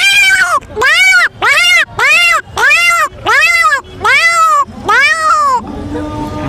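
A man imitates two cats fighting with his voice, a series of eight loud, drawn-out rising-and-falling caterwauls in regular rhythm, close and piercing, ending in quieter background murmur.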